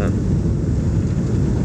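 A passenger airplane lands on the runway at Haluoleo Airport in Kendari, Southeast Sulawesi, after rain, heard from inside the cabin as a loud, steady, broadband roar with no pauses.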